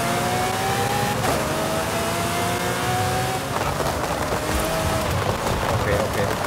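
A Lamborghini Murcielago LP640 with an LB body kit in Forza Horizon 5 roars at full throttle, its engine note climbing and shifting through gears in a loud, continuous snarl with tire noise layered beneath.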